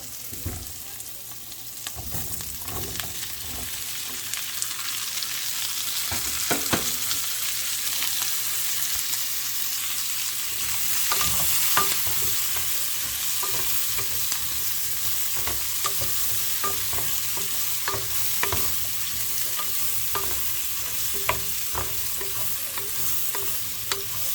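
Zucchini and chicken breast stir-frying in a home kitchen pan, a steady close sizzle with repeated scraping and stirring clinks throughout, no talking.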